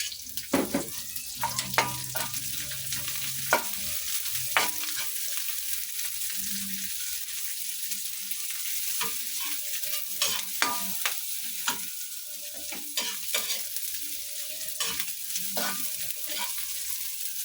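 Onions frying in a pan for Filipino beefsteak give a soft, steady sizzle, broken by repeated sharp scrapes and clinks of a spatula stirring them.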